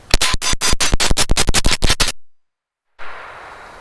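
Burst of about seventeen rapid, evenly spaced shots from a GSG 522 .22 rifle emptying its magazine, loud and close, stopping abruptly into silence before a brief clatter of handling noise.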